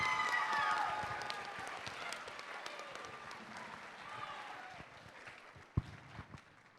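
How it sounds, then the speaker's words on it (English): Applause from the audience at a FIRST Robotics girls' generation opening ceremony in the Pacific Northwest. Sustained clapping fades gradually, with a few sharp louder claps near the end and some voices underneath. "Please, please give one more round of applause for these amazing ladies."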